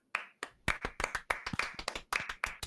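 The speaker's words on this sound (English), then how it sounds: "As all of you hear the sound of people clapping their hands." A small group clapping their hands in short irregular bursts, close and fairly loud, with brief pauses between the rounds and no talk.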